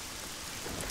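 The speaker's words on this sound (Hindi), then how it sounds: "बारिश आ रही है बाहर" Steady rain falling outside, a dense continuous hiss of drops with a faint low rumble, brief and uniform with no talking.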